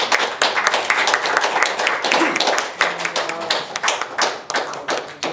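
An audience at a formal ceremony bursts into dense, sustained applause, loud and close, with many hands clapping continuously throughout.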